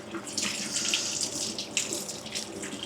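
Tap water runs into a sink while Indian beans are washed, a steady rushing flow with some splashing that continues throughout, with no talking.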